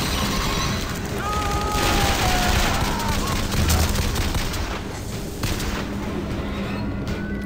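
Gun trap in a video game firing a sustained burst of rapid gunfire, loud and continuous throughout with dense crackling shots and booming impacts.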